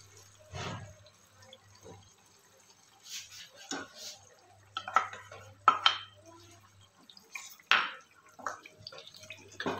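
Yogurt going into a pan of fried korma spices, with soft wet plops, scrapes and clinks scattered through a quiet kitchen, plus a low steady hum in the background.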